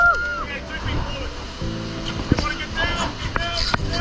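Rushing whitewater roars at a 7-meter waterfall drop during a rafting trip in New Zealand, with wind buffeting the microphone and splashing bursts, while people talk over the steady noise.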